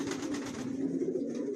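In a loft, Johnson long-line racing pigeons give a continuous low coo, a near, rolling hum that carries on unbroken with no one speaking.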